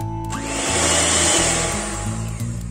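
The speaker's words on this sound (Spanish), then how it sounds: "nada, unos segundos a la batidora para asegurarme que no queda ningún granito de ninguna bolita de harina" A kitchen blender runs steadily for a few seconds, mixing cheesecake batter of flour, lemon juice and other ingredients: a loud, close, continuous whirring motor drone that rises slightly in the middle, with no talk.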